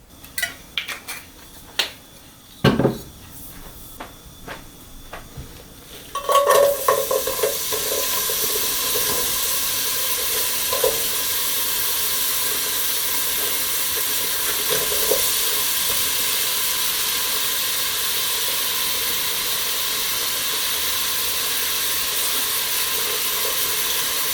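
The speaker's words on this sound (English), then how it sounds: "the next step is going to be to saute the onions" Onions sauté for a dairy-free tomato soup: a few utensil clinks and pan knocks come first, then a steady, loud sizzle takes over and holds until the end, with no talk.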